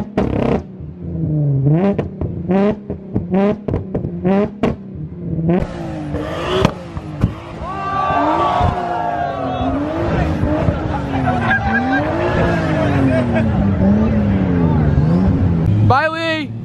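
A Mazda RX-7 with a JZ engine swap at an open house, revving and driving with engine pitch rising and falling and tire squeal, loud and close, while people talk over it.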